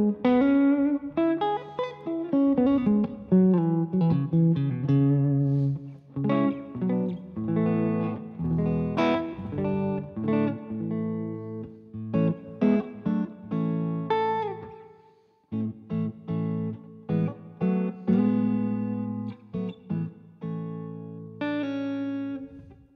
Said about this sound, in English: Now I've switched over to my American Fender Strat with Kinman Woodstock Plus pickups.